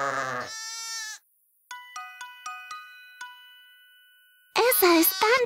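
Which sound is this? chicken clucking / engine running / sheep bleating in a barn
sheep bleating in a barn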